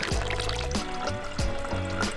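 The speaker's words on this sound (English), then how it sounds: "these water refill stations that they have everywhere" Water pouring from a public refill station in Interlaken, Switzerland into a bottle, a steady close gurgling fill with a few bubbling surges.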